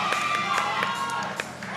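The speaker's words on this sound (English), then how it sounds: "The cheers are loud." Crowd cheering and shouting at a weightlifting competition as a lifter prepares a 127.5 kg attempt, a loud sustained roar of voices with a few sharper whoops rising out of it.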